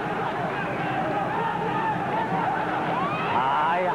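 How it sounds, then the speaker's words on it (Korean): Boxing crowd on its feet cheering during the tenth round of a Sung Kil Moon versus Jose Luis Bueno bout, a steady roar of massed voices swelling slightly toward the end. "관중들은 일어서서 함성을 지르고 있습니다."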